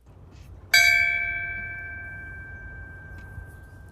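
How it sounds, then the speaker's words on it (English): A single memorial bell strikes once at a September 11th remembrance ceremony on Hilton Head Island, a clear metallic toll that rings on and slowly decays over quiet outdoor background. "The bell tolling at the exact moment in 2001 when one of the planes crashed into the World Trade Center"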